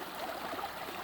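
Creek water on a rural property flows steadily over its bed, a continuous near babbling and trickling wash with no talk.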